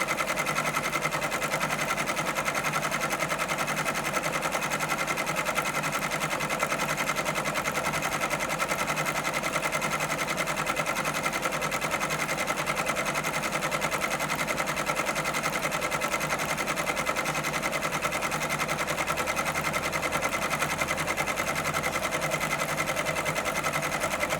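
Embroidery machine stitching a Cocomelon watermelon design onto a shirt, a rapid, continuous mechanical whir and needle buzz that runs steadily the whole time, close and unaccompanied by speech.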